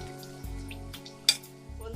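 Samosas frying in hot oil crackle and sizzle close up, with soft scraping of a utensil and a sharp metallic clink partway through.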